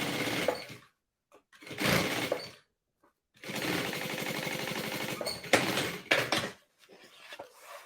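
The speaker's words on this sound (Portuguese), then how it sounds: "vou entrar na minha máquina e vou passar uma costura agora deste lado" A sewing machine stitches a bag lining seam in several bursts, a long steady run in the middle and shorter runs with quiet gaps between them, close and alone.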